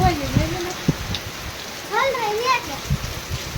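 A heavy downpour of rain makes a constant broadband hiss, while voices talk over it now and then.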